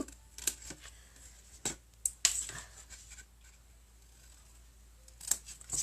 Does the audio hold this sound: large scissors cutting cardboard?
yes